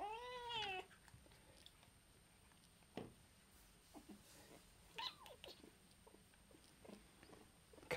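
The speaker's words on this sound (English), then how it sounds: "Cat's trying to get involved here." A house cat meows once nearby, a clear rising and falling call, followed by quiet indoor shuffling and small clicks at a workbench where a Game Boy is being modded.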